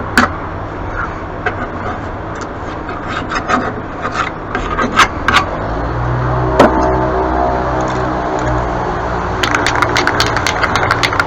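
Motor of a lawn mower deck running loudly and steadily, with rough rasping, rattling and clanking layered over a continuous engine drone, close to the microphone throughout.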